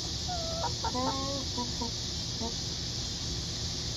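Free-ranging hens cluck in a short burst of calls in the first half, close by, over a steady outdoor background hiss.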